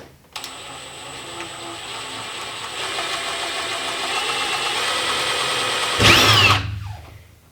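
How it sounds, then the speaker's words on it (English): An impact driver with a small bit drills a pilot hole for a tub and shower faucet install, a loud steady whirring drive that rises to a short burst of hammering impacts before it stops. "Okay, so I'm gonna take my impact with a small bit and drill a pilot hole here"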